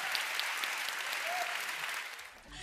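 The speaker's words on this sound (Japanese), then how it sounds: "はい、拍手。" Audience applause at a Japanese idol fan event for Yui Mizuno, a steady, moderately quiet wash of many hands clapping that holds evenly before thinning out at the very end.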